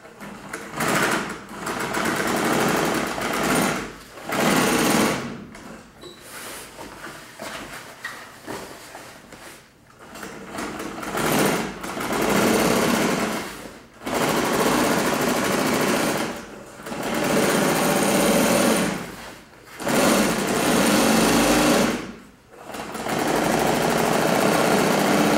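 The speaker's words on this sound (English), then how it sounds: "Now we can go back and stitch on the bottom edge of our binding." A sewing machine stitches binding onto boat canvas in long, steady runs of loud, close mechanical whirring, broken by several brief pauses between passes.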